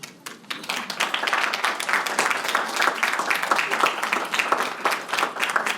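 Standing graduates at a commencement ceremony break into applause, a dense, loud burst of many hands clapping that swells quickly and holds steady.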